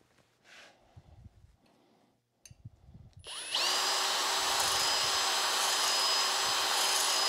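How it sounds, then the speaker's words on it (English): A rotary tool fitted with a grinding bit starts after a few faint clicks and handling sounds, then runs at a loud, steady high whine while sharpening a chainsaw chain. "let's put it back in the rotary tool. Let's see what it does."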